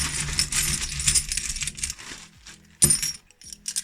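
A handful of Victorian coins, including old pennies, is scooped from a bag, producing several bright metallic clinks and jingles close by, with short pauses between bursts.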